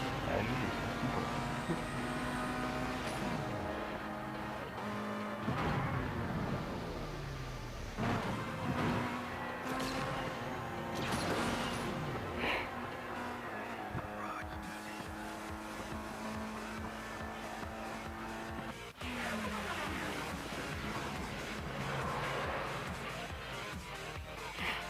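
Race cars in the Asphalt 8 video game roar continuously with rising and falling engine pitch through gear shifts, tire squeals and skids, while a voice speaks over the game sound.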